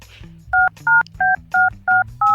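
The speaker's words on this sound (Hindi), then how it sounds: "किसी को रैंडम फोन करो यार, चलो मिलाओ।" Six short telephone keypad tones in a quick, even sequence, each a clean two-pitch beep separated by brief gaps, loud and close.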